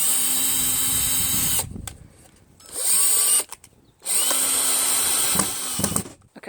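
A cordless power drill drives screws during a home assembly project, whining loudly in three sustained bursts separated by short pauses and clicks, close up with no talking.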